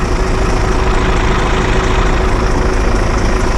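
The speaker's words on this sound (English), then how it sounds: "to keep my lights on at the moment, I've got to run the engine" A truck engine idles close by, kept running to power the lights during a marker light repair, giving a loud, steady low rumble with a constant hum and no change in pace.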